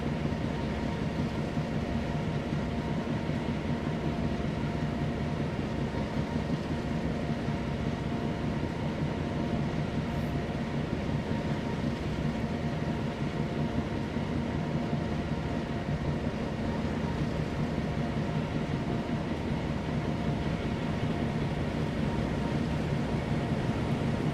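A steady, unbroken diesel train rumble from Train Sim World 2 drones on at an even level throughout, with no voices.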